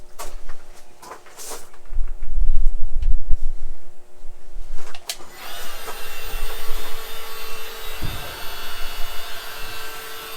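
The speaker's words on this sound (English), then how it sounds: "I have a heat gun" A few soft knocks and handling bumps come first, then a heat gun switches on about halfway and blows a steady, close hiss of hot air into the interior of a 1951 Pontiac over foil-backed insulation.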